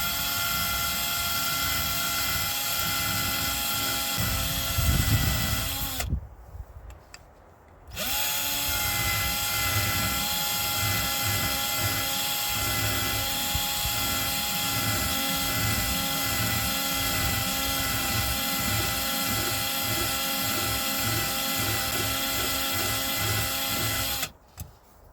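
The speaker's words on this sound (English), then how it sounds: "This nice little freaking 12-volt lathe." A small 12-volt lathe runs with a steady, close mechanical whir and high whine, briefly stopping twice before starting again, with no talk.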